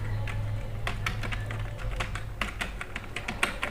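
Quick keystrokes on a computer keyboard while entering a city name into an Excel cell with data validation, a close run of irregular clicks ending in a slightly firmer tap, with no voices.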